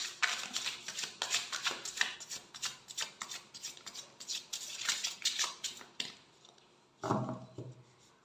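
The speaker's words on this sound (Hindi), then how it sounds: "Okay, let's shuffle the cards." A deck of tarot-style cards is shuffled repeatedly for a pick-a-card reading, giving a steady run of close, crisp riffling and rubbing bursts, then a louder soft handling thud near the end, with no talking.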